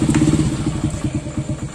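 A motorcycle passes nearby, its engine making a loud uneven putter of rapid low pulses that rise briefly and then settle.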